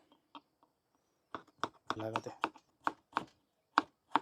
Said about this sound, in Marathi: आता आपण भाजीसाठी टमाटर कट करून घेऊ